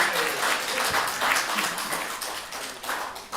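An audience at a morning Torah study session claps together in a sustained round of applause, with a few voices mixed in.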